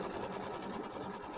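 An embroidery sewing machine stitches a quilting design placement line with a steady, fast mechanical whirr and rapid needle rhythm, close and unbroken, with no talking over it.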